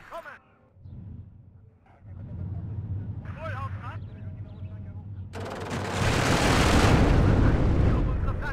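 Leopard tanks in WARNO fire on the move amid a dense, rumbling barrage of gunfire and explosions that builds into a loud, continuous roar. Someone talks over the quieter opening.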